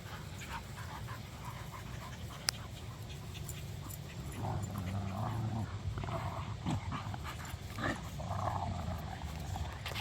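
Dogs at play give low, faint growls and grumbles mixed with panting and scuffling, fairly distant and continuous, with one sharp click partway through.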